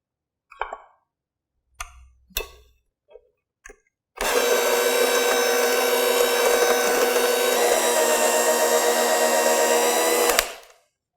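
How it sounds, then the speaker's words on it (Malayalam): Electric mixer blending dry ingredients into apple cake batter: a few short knocks and taps first, then the motor starts with a loud, steady whir that runs unbroken for about six seconds before cutting off abruptly. "ഡ്രൈ ആയിട്ടുള്ള ഇൻഗ്രീഡിയൻസ് കുറേശ്ശെ ആയിട്ട് ആഡ് ചെയ്ത് മിക്സ് ചെയ്തെടുക്കുക."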